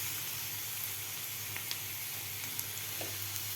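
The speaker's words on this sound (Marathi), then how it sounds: "तर कैरीसुद्धा आपल्याला या कांद्याबरोबर 1 मिनिटभर परतून घ्यायची आहे" Grated raw mango sautés with fried onion in a pan, a steady, fairly quiet sizzle with a few faint ticks from stirring and no voices.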